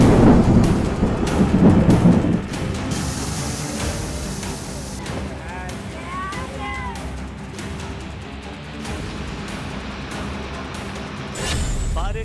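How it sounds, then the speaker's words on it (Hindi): Heavy rain and rumbling thunder roll through a flood scene, with a loud burst at the start settling into a steady roar of downpour, and faint indistinct voices beneath. "बारिश और बाढ़ का विकराल रूप"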